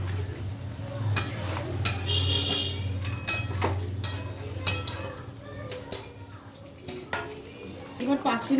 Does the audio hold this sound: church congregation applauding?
no